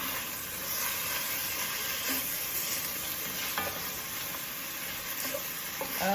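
Minced garlic sizzling in a pot while being stirred for Creole red beans and rice, a soft continuous hiss with occasional scraping and clinks of the spoon, close but fairly quiet, no talking.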